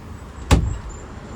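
A single quick thud of a cabin door on a 2023 Boston Whaler 240 Vantage boat, close by, against a low steady background hum.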